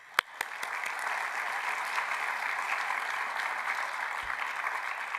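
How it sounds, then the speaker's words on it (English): Steady, dense audience applause at the Luminate Finals 2023, a sustained wash of many hands clapping at an even level after one sharp opening clap. "let's give them a round of applause"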